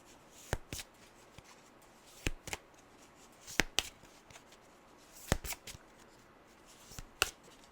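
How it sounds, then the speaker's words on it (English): A deck of tarot cards being shuffled by hand, with several short, crisp bursts of riffling and slapping separated by brief pauses, close and fairly quiet with no talking. "I don't know why I was still shuffling."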